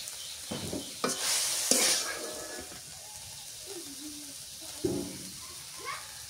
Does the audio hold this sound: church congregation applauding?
no